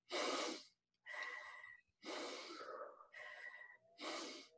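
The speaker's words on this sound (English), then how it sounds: "That's diaphragmatic breathing." Five deep, forceful breaths from a person demonstrating diaphragmatic breathing, each a loud breathy rush of air about half a second long with short pauses between, heard close up and without speech.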